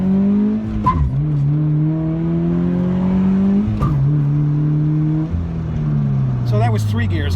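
A 2017 Toyota 86 accelerating hard through three gears on a canyon road, the engine note climbing steadily and dropping at each of two quick upshifts, loud and close, with a faint voice near the end.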